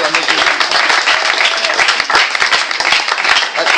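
A church audience breaks into loud, dense applause and cheering during a healing service, steady clapping filling the whole stretch close and strong.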